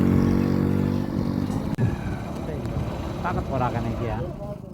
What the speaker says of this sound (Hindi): आगे इस तरीके से बाइक की हालात है, देखो कितनी रेत फेंक रही पीछे से।